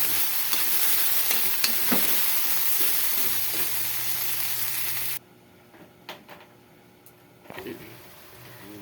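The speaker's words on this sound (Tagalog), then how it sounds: "igigisa lang po natin yung mixed vegetable" Mixed vegetables sautéing in a little oil in a pan, a steady loud sizzle with stirring scrapes that drops sharply partway through, leaving quieter clinks and faint kitchen sounds.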